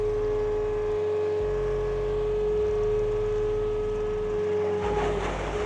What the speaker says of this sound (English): All right, so the engine's running.